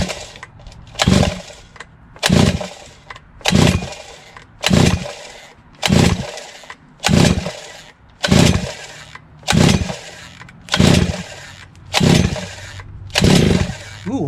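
Coocheer 42.7cc gas weed trimmer engine on choke being pull-started, with about ten rhythmic, evenly spaced bursts of recoil pulls and brief engine catches, loud and close, with no voices.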